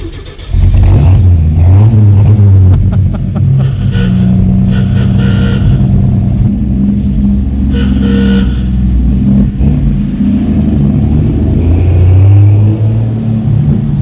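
A car engine roars as the accelerator is floored, rising into a loud, sustained rev that holds steady near the microphone for over ten seconds, with a slight dip and swell toward the end and no talking.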